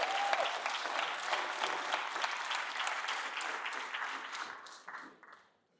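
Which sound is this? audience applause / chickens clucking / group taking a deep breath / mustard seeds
audience applause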